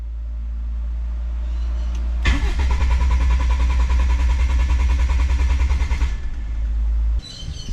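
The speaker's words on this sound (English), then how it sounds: "With the jump starter hooked up, I can now crank over the engine with the ignition coil off." A Toyota Corolla's 7K-E engine is cranked by the starter off a jump starter with the ignition coil disconnected, a loud steady rhythmic churning for about four seconds with no firing, starting and stopping abruptly.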